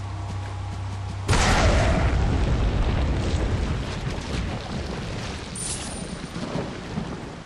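A grenade blast in the video game Resident Evil 4 erupts suddenly and loudly, a deep booming explosion followed by a long rumbling roar that slowly fades over several seconds, with no talking.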